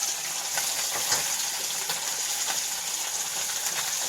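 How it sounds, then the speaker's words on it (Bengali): A rohu fish head fries in hot oil in a pan, giving a steady dense sizzle and crackle, close and fairly loud, with no talking. "আবার একটা মুড়ো দিয়েছি সেটা ভাজতে বসিয়েছি"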